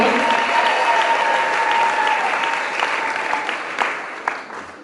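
A church congregation gives a dense round of applause for Christ. The clapping is loud and steady at first, then thins and tapers, with a few louder claps near the end.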